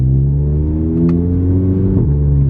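A car engine revving up under acceleration, a loud, close droning rumble with rising pitch and a brief shift in tone near the end, no speech.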